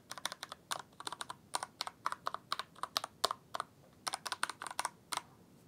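Typing on a Genesis Thor 660, a 60% mechanical keyboard with brown switches: steady bursts of crisp, close keystrokes in quick clusters with short pauses, with no voice.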